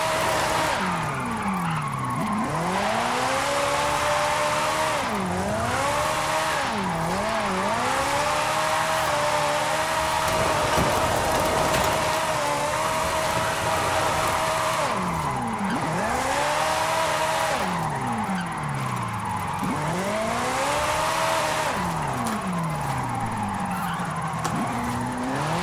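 A 1962 Ferrari 250 GT Berlinetta Lusso with an AWD drift tune and a 914-horsepower engine drifts in Forza Horizon 5: a loud, sustained engine howl rises and falls again and again over continuous tire squeal, with no talking.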